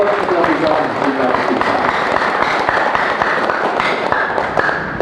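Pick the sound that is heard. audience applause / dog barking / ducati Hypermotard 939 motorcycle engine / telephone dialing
audience applause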